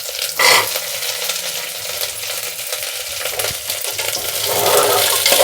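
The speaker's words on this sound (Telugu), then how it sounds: "ఒక 2 నిమిషాలు ఇలానే ఫ్రై కానిద్దాము. బీన్స్, క్యారెట్, పచ్చిమిరపకాయలు, ఉల్లిపాయలు." Carrots, beans, green chillies and onions fry in ghee for a sprouted-millet vegetable khichdi, a loud continuous hiss and crackle close by, stirred now and then with a brief clatter, no one speaking.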